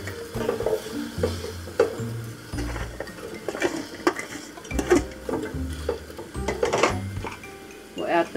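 Lotus root dropped into a pot of oxtail soup ingredients, with a series of irregular knocks, clatters and splashes against the pot, moderately loud and close, alongside soft background sizzle.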